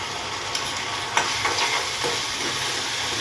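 Bread fries sizzle steadily in hot oil as a mix of soy, tomato and pizza sauces is poured in, with faint stirring scrapes and clicks over a constant loud frying hiss.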